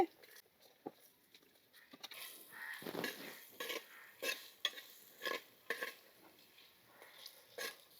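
Chopped onions fry in a pan with whole biryani spices for khushka, with a soft sizzle under repeated scraping and stirring of a utensil against the pan, close by and without speech.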